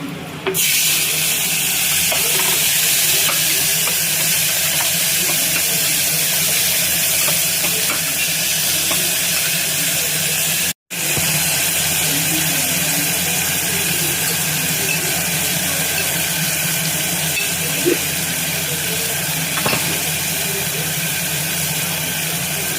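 Tomatoes frying in a hot pan for bisi bele bath, a steady loud sizzle with faint stirring scrapes that runs throughout, with a brief break partway.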